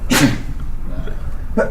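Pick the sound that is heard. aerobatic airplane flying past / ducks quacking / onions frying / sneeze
sneeze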